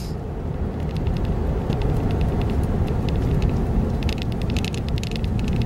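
A car driving along, heard from inside as a continuous broadband rumble of road and engine noise with faint ticking clicks scattered on top, steady throughout and without talk.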